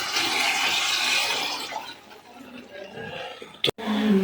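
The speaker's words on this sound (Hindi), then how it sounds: "उस हिसाब से हमने इसमें पानी ऐड करना है" Water poured into about a kilo of rice for a chicken Afghani pulao, a steady rushing splash over the first seconds that thins out, followed by a brief clatter and a louder pour at the end.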